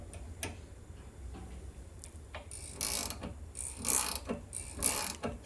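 A hand tool presses a rear suspension bushing into the control arm of a Mercedes W210, giving faint ticking and ratcheting clicks that build into louder creaks and squeaks toward the end, close and without talk.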